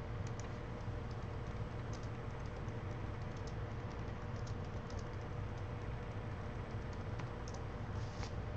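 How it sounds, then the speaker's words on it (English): Steady keyboard typing on a computer, a quiet run of faint key clicks over a constant low background hum, with no talking. "I gotta type something here."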